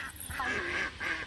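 Several ducks quack in short nasal bursts at close range, one call running into the next in an irregular, chattering rhythm with no talk over them.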